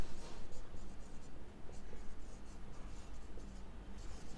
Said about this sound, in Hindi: देखो मैं इधर नीचे लिख रही हूँ